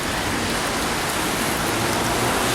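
Heavy rain falls at night on a Budapest street near Kossuth Lajos metro station, a loud, close, constant hiss of drops striking pavement and the camera with no voices.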